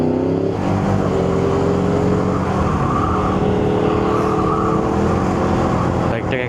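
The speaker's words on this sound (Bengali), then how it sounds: "আমার পিছন দিয়ে একটা বাইক আসতেছে, সুপার বাইক, সম্ভবত ওল্ড মডেল। হ্যাঁ, ইয়ামাহা R1" An older Yamaha R1 superbike, around a 2002 or 2004 model, comes up from behind on a road in Malta, its engine roaring loud and close with rising revs under a steady ride noise, with a voice talking over it.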